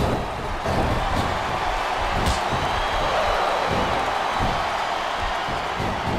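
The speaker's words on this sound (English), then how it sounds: "It sounds like this capacity crowd has something on their minds, Taz." A large wrestling arena crowd in a WWE SmackDown vs. Raw 2007 video game roars in a steady, diffuse wash of noise, with a few sharper thuds and shouts rising from the din.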